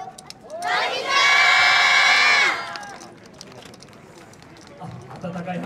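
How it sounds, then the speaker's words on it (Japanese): A festival crowd at a YOSAKOI dance event bursts into loud cheering and applause, peaking for a couple of seconds before fading into quieter murmur and a voice on a PA. "温かい拍手ありがとうございます"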